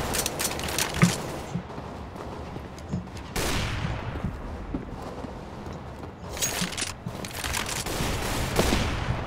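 Shotgun and rifle fire crack in the video game Counter-Strike: Global Offensive, with a few loud blasts standing out over scattered background gunfire and clatter, and little talk.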